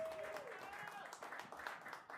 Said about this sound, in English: let's give him a big Here. round of applause